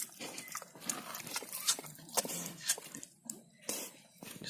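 A pig in Assam grunting and snuffling close by, a series of short rough bursts with brief gaps, fairly quiet, with no clear talking.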